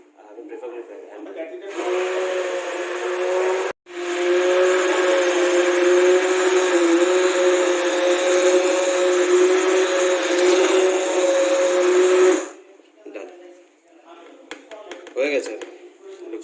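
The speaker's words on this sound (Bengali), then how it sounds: "এখানে দিয়ে দিয়েছি দই, জল, একটু চিনি আর ব্ল্যাক সল্ট। এখন এটাকে ব্লেন্ড করবো।" A hand blender whirs steadily through a mix of yogurt, water, a little sugar and black salt, running loud and continuous for about ten seconds with a brief stop near the start, then cutting off to quieter room sounds.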